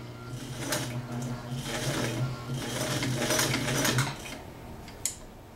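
A vintage Sears Kenmore heavy duty sewing machine stitches through heavy, multi-layered denim with a steady, close mechanical whir for about four seconds, then stops, followed by a single sharp click.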